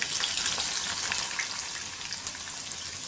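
Mustard seeds, cumin and crushed garlic sizzle in hot oil for sambar tempering, a bright continuous crackle with scattered sharp pops, steady and close, with no voices.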